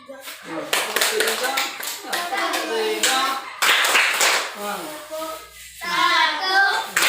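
Children in an elementary school science class clap hands in a counted one-two-three call-and-response pattern, with bursts of claps mixed under a teacher's and kids' chanting voices throughout.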